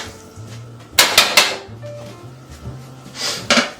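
Instant noodles with seasoning and soy sauce being stirred in a pot, with a few sharp metallic clanks and scrapes of a utensil against the pot spaced out over quiet kitchen background, close and fairly loud.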